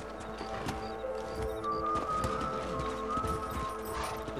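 Horse hooves clip-clop at a steady riding pace in Red Dead Redemption, a continuous rhythmic trot close up over ambient game sound, with no talk.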